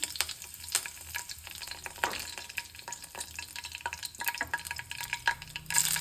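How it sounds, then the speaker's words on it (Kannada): Mustard seeds, cumin and curry leaves sizzle and crackle in hot oil for vegetable uppitu, a steady close frying hiss broken by sharp spattering pops throughout. "ಜೀರಿಗೆ ಹಾಕಿದ್ದೀನಿ. ಕರಿಬೇವು ಹಾಕ್ತಾಯಿದ್ದೀನಿ."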